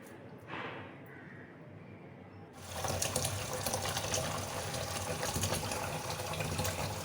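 Rinse water drains and splashes steadily from freshly washed red spinach (lal saag) in a basket. It starts abruptly after a quieter opening and runs as a continuous, fairly close rush of water.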